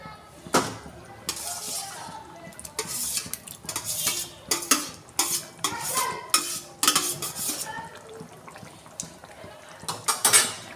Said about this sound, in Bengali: আমি এরপর চিংড়িগুলো দিয়ে দেব।